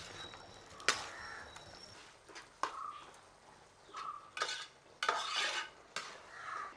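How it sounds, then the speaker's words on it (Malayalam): Quail egg curry masala being stirred in a pan after salt goes in, with quiet scraping strokes and a few sharp utensil clinks against the pan over a soft background sizzle. "ഉപ്പിട്ടിട്ടൊന്ന് ഇളക്കണം."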